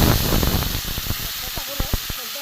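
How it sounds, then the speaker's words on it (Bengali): Water hits a hot pan of fried vegetable peels and sets off a loud hissing sizzle. The burst of steam fades to softer bubbling and crackle, with a few light utensil knocks near the end. "এবার আমি অল্প করে জল দেবো।"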